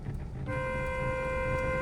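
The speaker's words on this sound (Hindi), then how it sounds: "एक लॉन्ग हॉर्न बजाओ" A car horn sounds in one sustained, steady blast at a blind turn, starting partway in and holding to the end, over low engine rumble.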